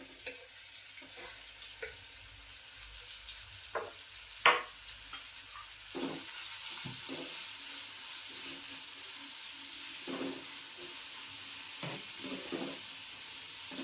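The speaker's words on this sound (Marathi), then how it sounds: "कांदा असा मस्त परतून घेते थोडा वेळ." Chopped onion sautés in a pan with a soft, steady sizzle and occasional stirring clinks, faint and close, with no talk.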